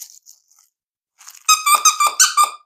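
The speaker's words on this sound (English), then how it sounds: "Squeak it." A puppy's squeaky toy, played with for a nine-week-old mini Goldendoodle, is squeezed in a quick series of about five shrill, close squeaks after a few faint, brief noises.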